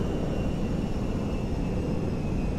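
A modded MD-11 airliner coming in to land on a busy highway in GTA 5, a steady loud jet engine roar with a constant rumble and a thin high whine, with no voices.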